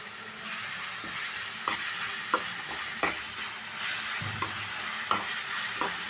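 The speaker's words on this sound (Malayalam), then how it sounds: "ഇതൊന്ന് ഫ്രൈ ആയിട്ട് നമുക്ക് കിട്ടണം. സവാള ഒന്ന് ഫ്രൈ ആവാനായിട്ട് കുറച്ച് ഉപ്പിടാം." Sliced onion and curry leaves frying with salt in a pan give a strong, steady sizzle, with the spoon knocking and scraping now and then as they are stirred.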